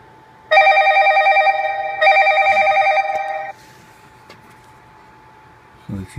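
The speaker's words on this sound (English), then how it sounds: "let's try receiving a call on this phone" A ZTE Cymbal T LTE flip phone rings with an incoming call: two long, loud bursts of electronic ringtone close to the microphone, followed by quiet room sound.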